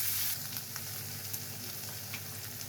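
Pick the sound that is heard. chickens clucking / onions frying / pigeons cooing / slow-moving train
onions frying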